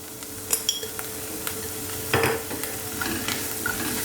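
Soya poha and vegetables cooking in a pan while a spoon stirs them, with several sharp metallic clinks and scrapes against the pan over a soft steady sizzle, heard up close.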